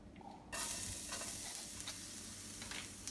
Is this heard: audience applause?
no